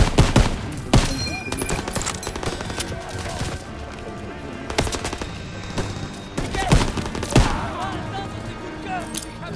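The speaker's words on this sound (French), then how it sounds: "ces mitrailleuses tirent sur notre position!" Machine guns firing in Call of Duty WW2, dense bursts of rapid gunfire with sharp loud shots and booms in a chaotic battle, continuing throughout.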